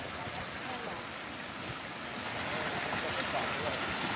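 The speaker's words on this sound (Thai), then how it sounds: "เนี่ยฮะ น้ำตก" A waterfall gives off a steady, soft rushing roar of falling water that never breaks, heard from some distance with no voices over it.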